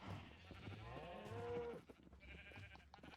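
Sheep in Minecraft bleating quietly: one drawn-out wavering bleat followed by a shorter, fainter second call over a low background.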